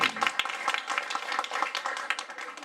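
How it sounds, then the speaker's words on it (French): Applause from a small audience at a women's group celebration in Haiti, honouring a councillor: a brief burst of close, dense hand clapping with uneven sharp claps throughout. "et on a applaudi Ogono"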